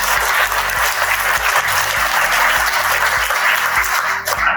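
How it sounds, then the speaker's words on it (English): Audience applause fills a breakfast event room, a dense, steady clapping from a sizable crowd, loud and close, continuing evenly throughout without speech. "Let's give them a round of applause."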